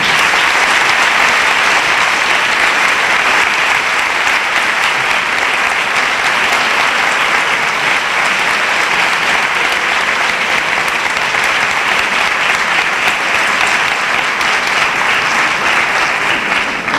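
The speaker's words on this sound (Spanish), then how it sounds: "que les deis un fuerte aplauso a Vico y a Manu Sánchez" An audience at a forum of the Fundación Caja Rural de Utrera in Utrera applauds steadily and loudly to welcome Manu Sánchez and David Vico, a dense, unbroken clapping that holds for the whole stretch.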